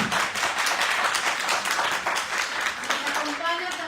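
An audience at a university book presentation applauds the author with steady, close clapping throughout, and a voice briefly speaks over the tail end.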